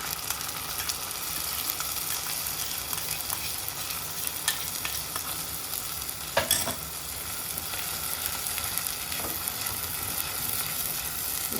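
Ground spice paste for a sardine curry sizzles and fries steadily in a pan, a continuous close crackling hiss with occasional stirring scrapes and louder spatters, no voices.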